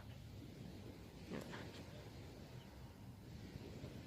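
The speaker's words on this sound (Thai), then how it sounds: "เสียงคลื่นซัดซัด" Broadband wash of sea surf rolling in at a distance beside a seaside park, steady and soft, with wind rushing over the microphone and a brief swell of louder spray midway.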